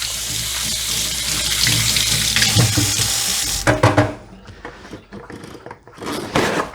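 Tap water runs steadily over hands being rinsed of lemon juice at a kitchen sink, a broad hiss for a few seconds, then breaking into scattered splashes and drips as the flow is interrupted.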